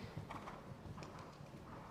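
Horse hooves thud in a steady canter rhythm during a senior freestyle pas de deux vaulting competition at a European championship, fairly quiet beneath the arena noise.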